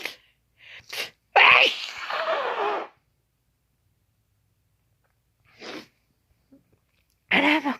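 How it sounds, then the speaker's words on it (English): A single loud sneeze bursts out after a couple of short breathy sounds, followed by quiet, then a brief murmur and the start of nearby speech. "Excuse me, I'm gonna sneeze."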